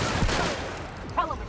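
Gunfire in The Outer Worlds, a sharp blast near the start and a second burst around the one-second mark, each trailing off over a low rumble with a voice faintly audible.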